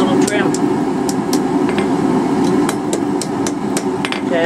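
Hammer blows straighten forged, twisted steel J hooks, sharp metallic strikes landing at an irregular rhythm, roughly ten hits over a steady hum of shop noise or a forge blower.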